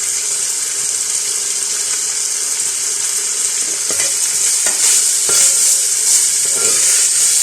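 Carrots and chicken sizzle hard in a hot pan while being stir-fried for chicken chow mein, a loud steady hiss broken by a few scraping stirs of the spatula, with no voices.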